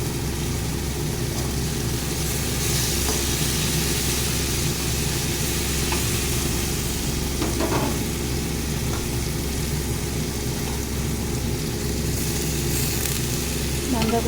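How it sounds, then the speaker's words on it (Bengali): Cabbage tipped into a pan of hot fried spices for a cabbage and pea sabzi, giving a steady, close, moderately loud sizzle and frying hiss that runs the whole way through with a few soft stirring knocks. "বাঁধাকপিটা আমি ঢেলে দিলাম"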